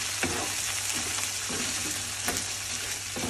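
Lentils fry and sizzle in a pan while being stirred, a steady bright hiss broken by soft scraping strokes of the spoon at a slow, irregular pace, close and moderately quiet with no talking.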